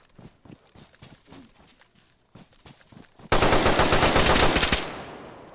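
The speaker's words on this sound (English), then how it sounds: "You'll hear shots right now." Gunfire in the survival video game DayZ, with scattered single shots at first, then a loud dense burst of rapid automatic fire that cuts off near the end.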